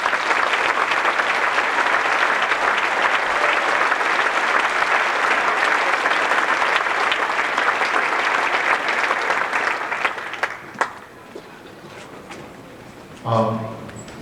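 An audience applauds at a district music festival concert for an audition chair, a broad, steady wash of clapping for about ten seconds before fading out, followed by a brief voice at a microphone.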